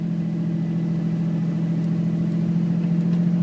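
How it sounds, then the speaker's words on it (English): A Cummins diesel in a 2001 Dodge Ram 2500 with a six-speed, downshifted into fourth gear, holds the truck on exhaust brake while going downhill. It makes a steady, deep, droning exhaust rumble that continues unbroken throughout, with no talk. "We're gonna downshift into 4th gear, and here comes the exhaust brake."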